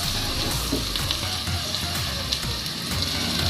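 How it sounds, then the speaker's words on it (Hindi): Onions browning in hot oil in a pan, with a steady close sizzle and crackle running continuously, bits of stirring and scraping mixed in, no talk. "लाइट गोल्डन कलर तक के हम प्याज ब्राउन करेंगे।"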